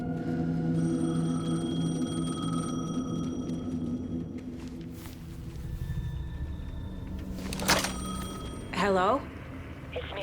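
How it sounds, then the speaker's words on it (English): Payphone ringing in the video game Alan Wake 2, a steady tonal ring with overtones against a low ambient rumble, joined late by a brief warbling electronic tone. "The payphone was ringing."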